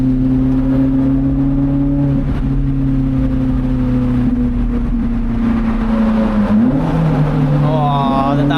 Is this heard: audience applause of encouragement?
no